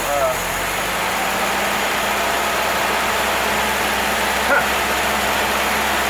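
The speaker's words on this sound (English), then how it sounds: "Now we're back to idling down." An old barn-find car engine idles steadily after its carburetor has been cleaned, a constant close rumble with a faint whine running through it and no voices.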